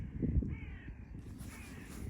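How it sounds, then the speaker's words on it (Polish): Birds call by the water at a lakeside fishing spot, giving a couple of harsh, croaking caws that stand out clearly over quiet outdoor ambience. "klekające ptaki"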